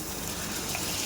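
Water gushing steadily into a pan of coconut chicken curry, a Bohra-style kaari, a loud close broadband splash lasting about a second with no talk.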